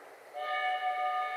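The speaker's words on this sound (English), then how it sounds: "Attention! The train is arriving at the station." In the Sherlock Holmes: Crimes and Punishments video game, a train pulls into a station with a sustained tonal whistle rising over a soft rail rumble, moderately loud and steady with no speech.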